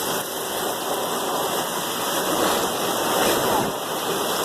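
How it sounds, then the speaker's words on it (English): Steady rushing spatter of rainwater pouring from a gutter with holes popped out during a tropical storm, a dense continuous wash with no letup, loud and close. "That's the gutter leakage because the holes got popped out during Irma"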